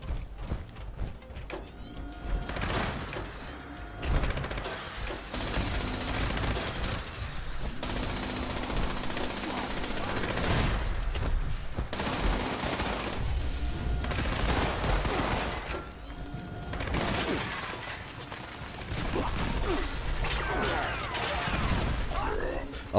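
Laser weapon fire in Fallout 76, dense bursts of crackling, clattering shots and mechanical clicks repeating across the whole stretch, loud and busy, with game effects layered throughout.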